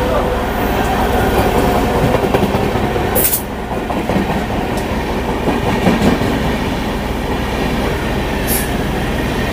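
Steady loud rumble and rattle of a Howrah-Bardhaman chord local train running, heard from inside, with continuous wheel clatter and a couple of brief high squeals.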